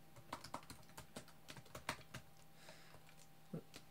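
Computer keyboard typing at a desk while entering serial commands for an Arduino relay setup: a brief run of light, irregular key clicks, close and fairly quiet, with no talking.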